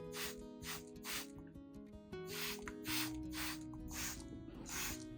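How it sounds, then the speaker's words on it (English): A spray bottle mists plant leaves, stem and exposed roots, giving about seven short, evenly spaced hissing bursts over soft background music. "When spraying, you should spray evenly onto the leaves, stem, and even exposed roots"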